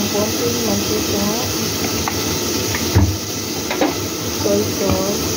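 Cooking oil hisses and sizzles in a pan in a home kitchen, a steady close spitting hiss with a few clinks and stirring knocks, while someone talks over it.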